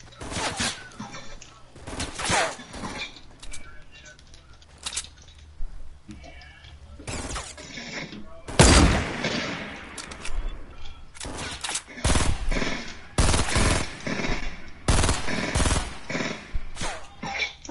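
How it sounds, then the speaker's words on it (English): Fortnite gunfire in bursts of sharp cracks and volleys, some near and loud, others farther off, with a heavy crash around the middle, mixed with scattered in-game noise and a little talk. "someone's shooting at me"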